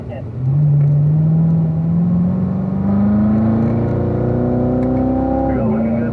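A car pulls out of a turn on a racing circuit in third gear, its engine note climbing steadily in pitch as it accelerates. The engine is loud and close, heard as a continuous rising drone.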